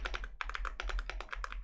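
Rapid, uneven clatter of keys typed on a computer keyboard, a steady run of close clicks with brief pauses, a low hum beneath.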